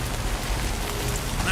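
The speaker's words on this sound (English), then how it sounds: "I can't stand the rain against my window." Rain patters steadily against a window in Death Stranding 2: On the Beach, a dense, even wash of drops and hiss that stays close and constant throughout.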